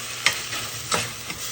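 Saltfish frying in a pan, a steady sizzle with three sharp bursts of stirring scrapes, close and clear with no talk.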